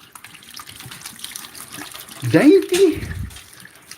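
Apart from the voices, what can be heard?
rinsing hand under running tap water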